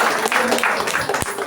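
Applause for a couple celebrating their 50th wedding anniversary, a short burst of many hands clapping in a crowded hall with voices mixed in.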